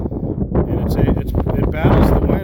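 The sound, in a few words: strong wind gust hitting DJI Mavic Air drone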